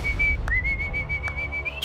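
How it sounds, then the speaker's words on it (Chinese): A person whistles one sustained clear note that steps slightly higher partway through and rises at the end, close and fairly loud over low background rumble, with no talking. "他在吹口哨吗？"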